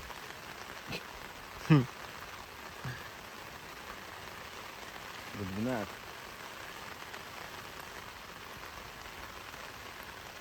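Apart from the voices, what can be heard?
rain falling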